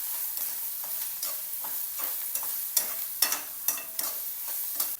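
Ground green chilli and peanut paste being sautéed in a pan with salt and turmeric, a soft continuous sizzle broken by repeated scraping and stirring clicks of a spoon, close and moderately loud.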